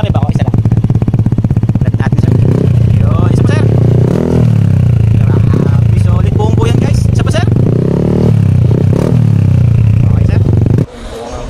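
Yamaha Aerox scooter with a full-system muffler and no silencer blares loudly up close, idling with a dense rumble and revving in surges before cutting off, with someone talking over it.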